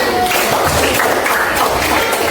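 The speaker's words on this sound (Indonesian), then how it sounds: "Tepuk tangan." Junior high school students in a classroom clap together in a continuous, even burst of applause, close and fairly loud throughout.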